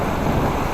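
Strong wind buffets a tent pitched in Mongolia, a steady roaring rush with no pause, close and loud.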